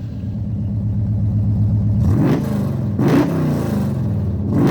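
A carbureted V8 with a Holley carburetor in a Ford Maverick rumbles steadily with a low harmonic drone, then revs up twice in quick surges before settling back to a rough idle.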